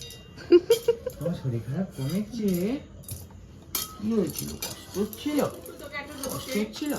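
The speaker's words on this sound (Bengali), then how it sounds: "ওমা ও ডিম রান্না করছে আর পদির রান্না করছে" Metal utensils clink and scrape against pots and dishes while a young child plays at cooking eggs at home, with sharp intermittent taps under steady chatter from a child and adults.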